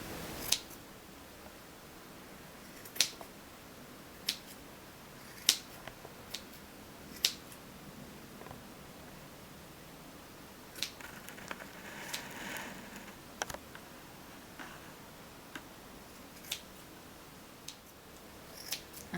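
Scissors snipping around a multicoloured yarn pom-pom to even out a flat side, with sparse, crisp clicks spaced a second or two apart over quiet room hiss.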